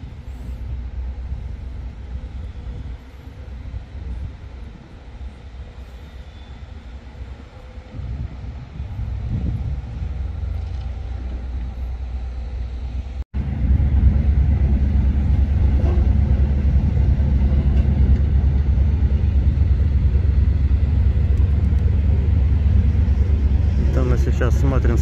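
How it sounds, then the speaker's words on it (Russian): Road traffic drives past from left to right on a street between Shevchenko Street and Stoletovsky Avenue, a continuous low rumble with wind noise that grows louder and denser midway. "Слева направо едет транспорт, это с улицы Шевченко на Столетовский"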